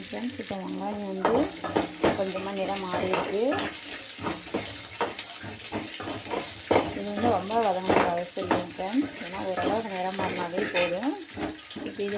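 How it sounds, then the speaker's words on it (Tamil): Tomatoes sautéing in a pan for a potato gravy give a steady, close sizzle with occasional stirring scrapes, running continuously beneath louder melodic background music. "தக்காளியும் ஆட் பண்ணி வதக்கிக்கிறோம்"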